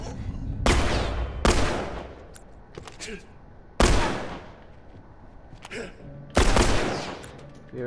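Repeated gunfire from The Last of Us Remastered, four loud sharp bursts spaced a few seconds apart over a rumbling game soundtrack.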